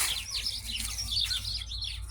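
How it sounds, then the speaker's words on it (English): Many birds chirp and tweet busily in a garden planted with day lilies, irises and morning glories, their overlapping calls fairly close and steady over a low background hum, with no voices. "birds are going crazy"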